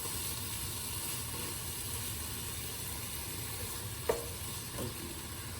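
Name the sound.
stirring veggie pasta sauce in a pan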